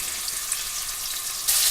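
Pork chops browning in a hot frying pan for Southern smothered pork chops, a steady close sizzle that swells louder near the end, with no talking.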